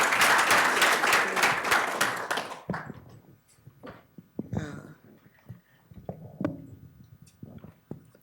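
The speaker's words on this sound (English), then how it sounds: "With a round of applause, please, if you don't mind." Lecture-hall audience claps for an opening speaker at an academic event, a dense burst of applause for over two seconds that thins into scattered claps, with brief talk and small knocks afterward.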